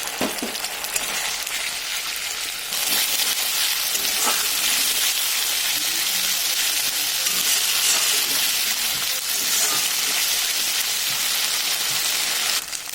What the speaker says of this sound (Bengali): এবার আমি দিয়ে দেবো এর মধ্যে আদা, রসুন, জিরে আর শুকনো লঙ্কা পেস্ট